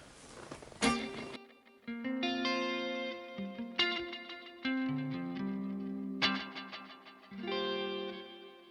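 Electric guitar through a Fender Tone Master Pro: notes and chords ring out with a washy reverb tail, played in short phrases with pauses between, fairly quiet.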